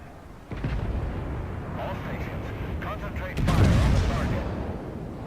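A battleship's main guns fire a salvo at the Tirpitz in World of Warships: a deep, booming report, then a second heavier blast with a rolling rumble, loud against a low ambient drone while someone talks over it.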